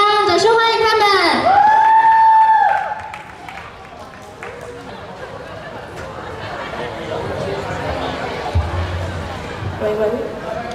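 A school class singing competition audience breaks into crowd applause and scattered cheering after a brief opening voice, the clapping and chatter filling the hall at a steady moderate level.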